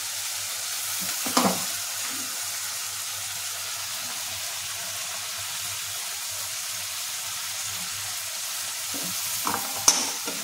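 Spice paste for parshe fish curry frying over very low heat in a pan, a steady soft sizzle throughout with a couple of brief stirring scrapes near the start and end.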